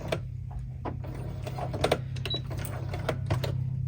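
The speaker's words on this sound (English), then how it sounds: "I like to stop in the center, back stitch a little," A sewing machine back stitching a small fabric key fob, a low mechanical hum with rapid ticking stitch clicks and a few brief pauses, steady and close, with no talking.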